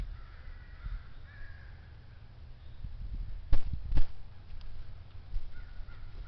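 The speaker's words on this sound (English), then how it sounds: "What's going on with those crows?" Crows caw from trees, a few harsh calls with two sharper, louder caws near the middle over a steady outdoor rumble.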